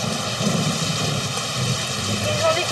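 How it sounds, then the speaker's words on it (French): Steady rain falls during a summer day in Paris, a dense, even hiss of drops that continues without a break, with a faint low hum running underneath. "la pluie."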